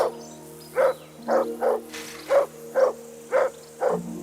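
Repeated dog barks from Kingdom Come Deliverance 2, seven evenly spaced woofs over a low sustained background drone, fairly close and clear.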